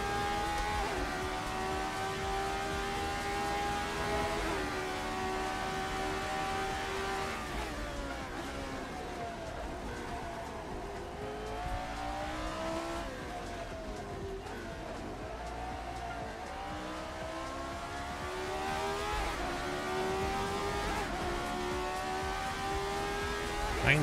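Race car engines in Assetto Corsa sim racing hold a steady, loud drone as several cars lap together, pitches rising and falling through gear changes, with faint tire squeal now and then.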